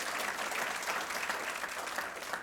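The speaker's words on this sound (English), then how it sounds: "let's give Warren Friutani a round of applause" An indoor audience at a State of the State address claps in steady, dense applause throughout, evenly loud without pauses.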